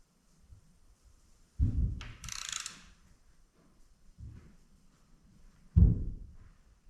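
Wrench clicks and mechanical ratcheting come from tightening rocker arm studs on a restored Allis Chalmers engine, in a few short separate bursts with quiet gaps between them, close and fairly loud.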